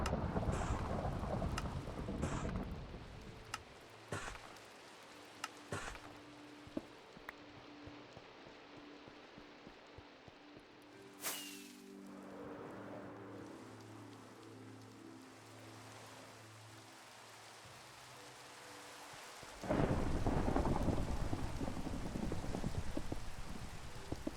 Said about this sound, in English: I'm gonna keep the thunderstorm because I think it's awesome.